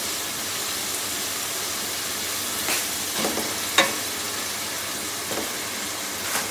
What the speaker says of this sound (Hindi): पहले हम चिकन को अच्छे तरीके से फ्राई करेंगे फिर हम इसके अंदर मसाले डालेंगे।